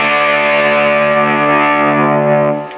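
Gibson ES-335 semi-hollow electric guitar in vintage burst finish, played with distortion and effects from the neck pickup: one loud sustained chord ringing steadily for close to three seconds, then fading out briefly at the end.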